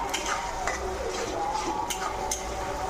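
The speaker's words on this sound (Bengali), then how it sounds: "দেখো, মশলাটা হালকা কষিয়ে নিচ্ছি।" Spice paste loosened with a little water being lightly fried and stirred in a pan: a soft, low sizzle with scattered spoon scrapes and clicks, fairly quiet throughout.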